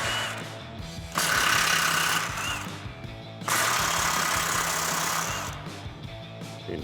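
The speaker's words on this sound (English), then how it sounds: "to loosen it, you're gonna need a 14mm socket with an impact" An impact wrench with a 14mm socket loosens the sway bar bolts on a Tacoma, giving two loud, rattling hammering bursts of about a second or two each, with quieter pauses between them.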